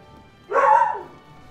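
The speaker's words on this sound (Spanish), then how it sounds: "Toda la tarde durmiendo y te vas a poner ahora a ladrar." A single short, sharp bark from a house dog, loud and close, rising and fading within about half a second against quiet room tone.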